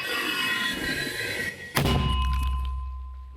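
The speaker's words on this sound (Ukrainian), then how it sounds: "Постріл." A single heavy thump of a mortar firing on a Ukrainian front line breaks over steady background rumble, followed by a lingering low boom that slowly fades.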